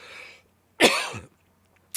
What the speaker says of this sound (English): I still have a little cough.